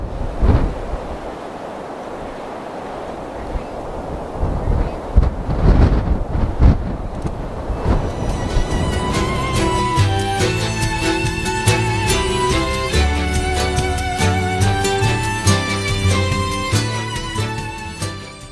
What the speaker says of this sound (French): apprécier le bruit du vent et de la rivière